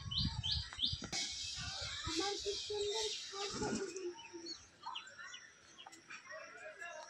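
Pet pigeons calling outdoors in a rooftop loft, soft cooing mixed with chirps and bird calls at a moderate distance, with quieter stretches.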